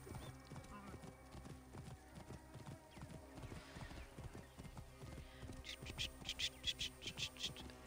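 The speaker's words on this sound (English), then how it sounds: "Just riding a horse, as per usual." Horse hooves clip-clop steadily while riding in the video game Assassin's Creed Origins, a continuous near rhythm with occasional bright jingles toward the end and some talk over it.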